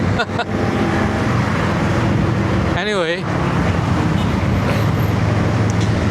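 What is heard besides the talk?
motorcycles with loud open aftermarket exhausts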